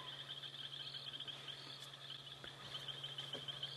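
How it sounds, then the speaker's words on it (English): A night safari soundscape of insects and frogs chirping faintly and steadily, with occasional soft bird calls and a distant scops owl, and a low hum beneath. "Can you all hear the lovely birds and frogs and the scops owl that's calling in the distance?"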